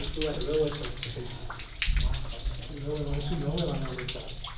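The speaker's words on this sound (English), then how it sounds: "You know it's not safe when there's water coming through." Water trickling and splashing steadily through an abandoned cave, close by, with a person talking over it in the echoing space.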